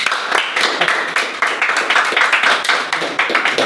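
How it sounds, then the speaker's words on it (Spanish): A small group claps and applauds at a home music session in Buenos Aires, quick uneven hand claps bunched close together, near and fairly loud, for a few seconds without talk over them. "Un aplauso por Germán."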